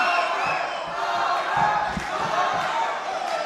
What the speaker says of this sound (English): And you hear the crowd yell, Viedas, Viedas.